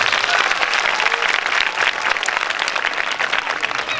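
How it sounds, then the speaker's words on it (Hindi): An audience at a township church program applauds loudly, a thick wash of many hands clapping that holds steady throughout. "दोनों हाथ हिला के जोर से तालियां बजा पाएंगे"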